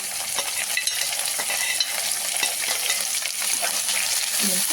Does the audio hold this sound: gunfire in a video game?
no